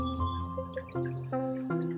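Water drips and falls through an aquaponics aquarium's circulation and filtration system, giving repeated close, ringing plinks over a steady soft trickle.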